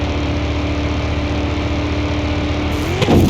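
Seventh-generation NASCAR race car engine in Car Mechanic Simulator at around 200 mph in top gear, a loud sustained drone holding steady pitch, with a brief rising burst near the end.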